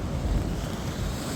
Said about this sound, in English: you just watch the waves come in